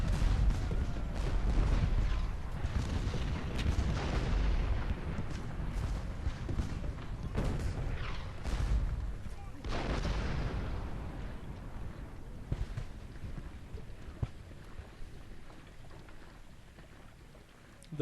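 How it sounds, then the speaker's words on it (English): Artillery fire in Ultimate General: Gettysburg: repeated heavy booming cannon blasts with rumbling tails, loud early and fading to sparser, more distant thuds over a low continuous rumble. "they're concentrating a lot of artillery fire over on the cavalry right now"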